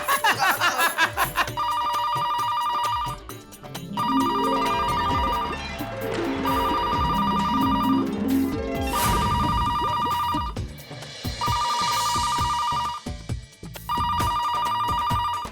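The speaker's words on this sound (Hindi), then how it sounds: "पहले जल्दी से वेवान को फोन लगा" Telephone ringing in a Hindi comedy household scene, with a repeating electronic ring in regular bursts over background music, loud and close, as a call is being placed.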